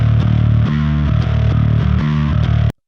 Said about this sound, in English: It's really simple, 4-knob pedal, distortion, overdrive kind of thing.